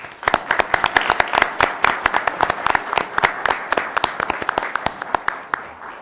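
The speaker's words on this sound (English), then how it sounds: "let's give her a round of applause." A small audience at a December county commission meeting applauds the Employee of the Quarter, with distinct, fairly sparse hand claps in an uneven rhythm, close and moderately loud, continuing steadily for several seconds.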